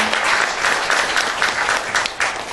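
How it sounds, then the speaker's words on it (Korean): Sustained applause from a ceremony audience greets KT as the presidential award winner is announced at the 13th Korea Brand Awards, a dense, even clapping texture filling the whole moment. "여러분 박수로 맞이해주시기 바랍니다"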